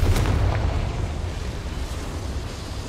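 A Confringo fire spell explodes in Hogwarts Legacy, a single loud booming blast at the start that rolls off into a rumbling, windy decay.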